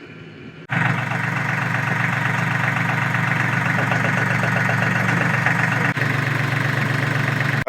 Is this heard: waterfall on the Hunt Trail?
no